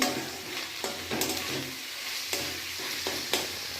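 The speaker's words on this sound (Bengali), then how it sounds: "আদা রসুন ভালো করে ভেজে কষিয়ে টমেটোটা দিয়ে দেবো। টমেটোটা ভালো করে কষাবো।" Ginger, garlic and tomato fry in hot oil in a pan, with a steady close sizzle broken by repeated scraping stir strokes, and no talking.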